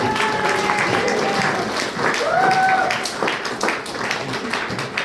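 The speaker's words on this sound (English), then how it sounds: "Can we give a round of applause for Gabe?" At a county Republican party gathering, a crowd applauds the campaign manager Gabe: sustained clapping throughout, with voices talking and calling out over it partway through.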